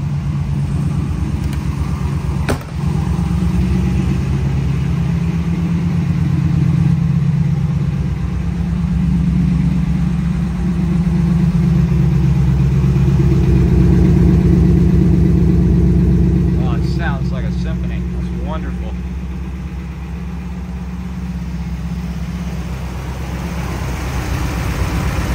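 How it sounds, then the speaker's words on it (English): 1991 GMC K1500 Sierra with a 383 stroker engine idling heard near its tailpipes, a deep steady loping rumble that swells slightly midway, with someone talking over it. "Let's go over to the passenger side where those tailpipes are and give a listen to this beefy 383"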